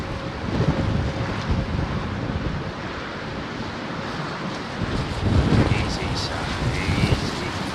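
Strong gusty wind buffeting the microphone at London Heathrow Airport, a continuous broadband roar that surges louder around the middle and again near the end, with no other clear sound standing out.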